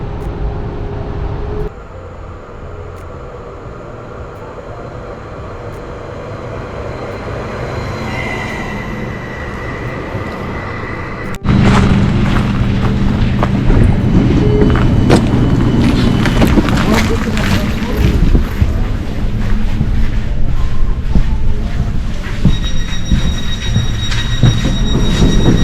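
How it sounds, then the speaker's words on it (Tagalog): Train arriving at a station in Finland, a loud rumbling and screeching of wheels and carriages that swells as it pulls in close and continues for about 25 seconds, with faint voices in the background. "So, yan na yung train"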